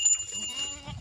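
A goat bleats briefly and close by among grazing livestock, one short wavering call with faint background noise.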